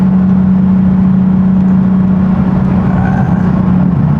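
A Nissan 370Z engine drones loudly and steadily on the road with a constant low hum, and a faint shift toward the end as it accelerates from 50 and brakes hard.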